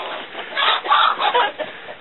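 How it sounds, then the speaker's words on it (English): Chickens cluck continuously inside a backyard coop on a small homestead, a close, busy mix of overlapping clucks and murmurs with no talking. "Got my chicken."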